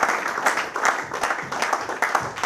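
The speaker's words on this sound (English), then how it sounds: "I would like again for a round of applause, lovely round of applause for Mr." Audience applause with scattered claps in a hall honouring a guest, steady and fairly close, filling the whole stretch without speech.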